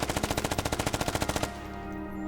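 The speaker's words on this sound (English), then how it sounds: "The auto rifleman rolls get the Minimi, which come with the 552 EO tech." A Minimi light machine gun firing in the video game Squad: a rapid, steady automatic burst of about twenty evenly spaced shots, close and loud, stopping abruptly into a low ambient hum with no talk.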